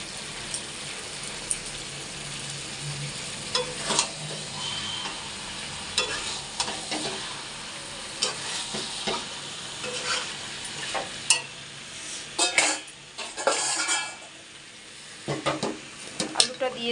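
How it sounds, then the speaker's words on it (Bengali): Country chicken sautés with cumin in a hot pan, a steady oily sizzle under repeated metal scraping and stirring strokes, close and moderately loud, with no one speaking. "এটা অনেকক্ষণ কষাতে হবে, দেশি মুরগি আছে"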